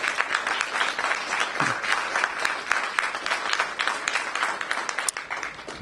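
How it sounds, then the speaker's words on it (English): An audience gives a sustained round of applause for the teachers at a poetry recitation championship, dense steady clapping filling the room at an even level throughout. "let's give a round of applause to the teachers"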